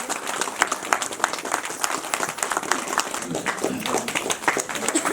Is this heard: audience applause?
yes